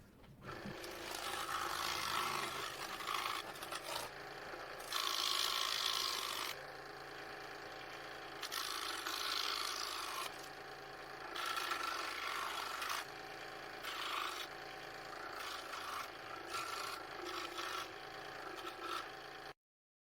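Scroll saw cutting thin plywood bookmarks, sped up: a steady raspy wooden cutting buzz in bursts, pausing briefly between passes, fairly close and alone.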